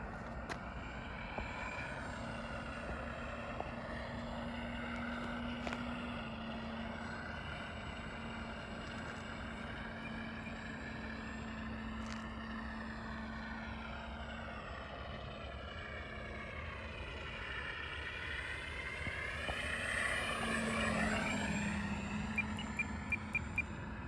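A Carbon Z T28 super-scale RC plane in flight, its steady electric motor and propeller drone heard at moderate distance, rising and falling in pitch as it passes and swelling louder near the end.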